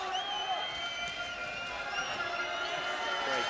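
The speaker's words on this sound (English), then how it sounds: "Great crowd here, good atmosphere." A crowd fills a handball arena in Aalborg during the EHF EURO 2014 match between Hungary and Norway. The steady, lively roar of cheering and whoops runs underneath a commentator's voice.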